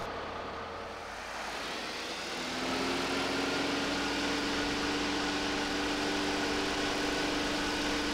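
In a flight simulator, the Just Flight Cessna 152's piston engine hums low at idle, then throttles up into a louder, steady drone with a rising tone that holds to the end, with no talking.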